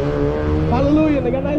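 A car passing by, its engine rising into a loud revving whoosh with a shifting pitch, close and prominent, while a voice talks underneath.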